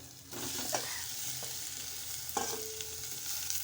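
A spoon scrapes and stirs a mixture of softened onion and boiled potato in a hot pan, giving a few distinct scraping strokes over a faint background sizzle.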